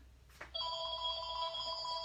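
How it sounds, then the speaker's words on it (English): A mobile phone rings partway through an online card-making class: after a brief rustle, a steady electronic ringtone of sustained, layered tones starts and carries on loudly to the end, with no talking over it. "Excuse my phone."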